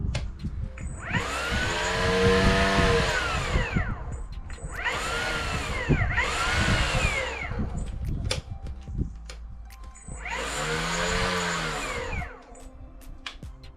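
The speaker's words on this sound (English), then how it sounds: "here's 20 seconds of pure brush cutter pleasure" A Stihl FSA 90 battery brush cutter trimmer whines up to speed in three long bursts, each rising and falling in pitch, loud and close with short pauses between, and no voices.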